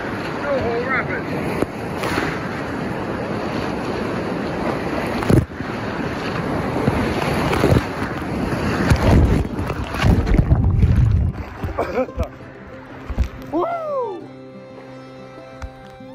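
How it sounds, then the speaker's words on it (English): Class 4 whitewater at Snow Hole rapids on the Lower Salmon River roars loudly and steadily around a boat, with wind buffeting the microphone, then the rush eases and a few short calls ring out near the end. "Class 4, snow hole rapids."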